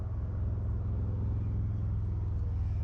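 Steady, loud low rumble of busy road traffic in Phoenix, continuous engine drone with no gaps and no voices.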